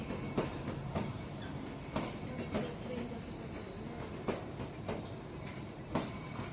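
The Him Darshan Express rolls along with a steady rumbling drone and periodic rhythmic clacks of wheels over rail joints, a moderately quiet, continuous running sound without talk.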